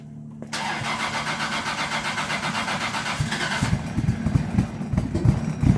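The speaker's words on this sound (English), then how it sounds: "let's listen to this 2JZ cold start." A Toyota 2JZ engine in a tuned standalone car fitted with two big mufflers cold-starts after a brief crank, then settles into a fairly quiet, even idle that grows rougher and burbles more toward the end.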